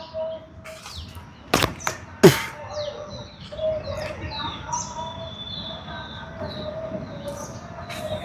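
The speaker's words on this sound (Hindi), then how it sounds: "चिड़ियों की चहचहाहट" Birds chirp and tweet intermittently in an open outdoor space, with a couple of sharp knocks and a steady background hum.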